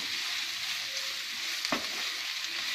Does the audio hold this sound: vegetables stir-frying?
yes